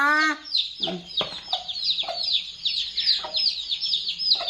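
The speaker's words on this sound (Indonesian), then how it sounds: "pitike barang kok ya ora gelem metu ta" Chickens cluck close by at a rural Javanese farmhouse, giving a run of short, repeated clucks and squawks that open with a longer call and continue irregularly throughout.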